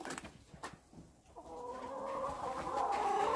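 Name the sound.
rooster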